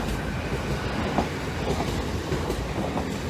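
Express passenger train bound for Edinburgh running along the East Coast Main Line diversion via Lincoln, a steady rolling rumble with faint rhythmic wheel clatter at moderate distance.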